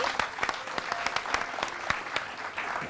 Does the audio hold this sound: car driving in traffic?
no